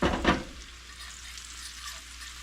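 Chanterelle mushrooms cooking down in butter in a pan give a short loud stirring sizzle at first, then settle into a soft, steady, close crackle.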